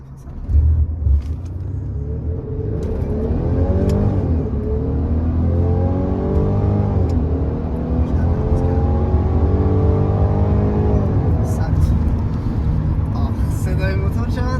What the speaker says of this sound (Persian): صدای موتور چقدر تغییر کرده